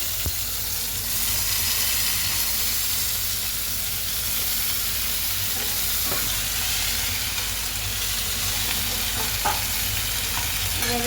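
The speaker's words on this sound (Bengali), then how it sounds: "ভাজা হয়ে গেছে আলু আর কলা দিয়ে" Potatoes and plantain frying in a pan with a steady, close sizzle and occasional stirring clicks, continuous throughout with no talking.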